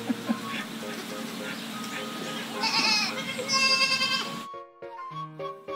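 Goats on a farm guesthouse in Kawaminami, where a nanny recently bore quintuplet kids, bleat repeatedly at close range over a busy background. A short tinkling melody follows.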